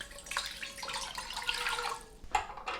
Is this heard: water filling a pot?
yes